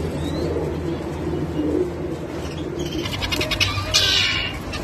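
Pigeons cooing amid a busy, crowded bird market hum in Baghdad, with some chirping bird calls toward the end.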